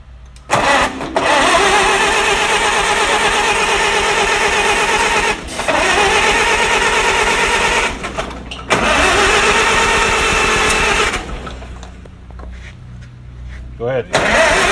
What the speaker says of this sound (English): All right, Dan, crank her over.